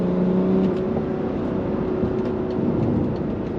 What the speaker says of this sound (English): You can hear that diesel engine working pretty hard.